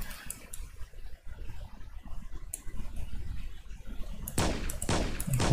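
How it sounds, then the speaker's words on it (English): Gunfire from the first-person shooter game Sauerbraten rattles in short bursts over a noisy game background, with a louder cluster of shots near the end. "I can hear the gunshots, but where's the music?"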